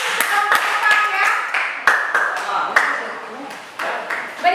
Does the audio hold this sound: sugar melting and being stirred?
no